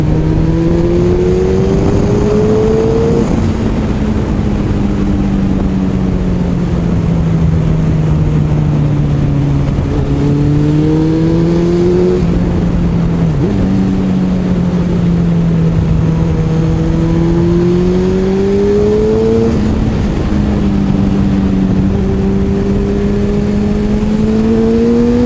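A 2008 Suzuki Hayabusa motorcycle engine revs hard and continuously, its pitch climbing and falling through repeated throttle blips over a steady loud idle, close by with no talking.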